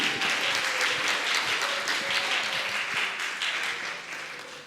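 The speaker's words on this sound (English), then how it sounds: "A round of applause for Asia Speaks 2020." Audience applause at the Asia Speaks 2020 Aceh chapter event, a full wash of many hands clapping from a crowd that stays steady and then tapers slightly toward the end.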